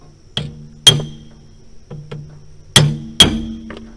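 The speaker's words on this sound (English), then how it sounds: "brought a brass punch back with me and a hammer" A hammer strikes a brass punch five or six times in irregular sharp metallic knocks, each with a brief ringing tail, heard up close in a quiet outdoor setting.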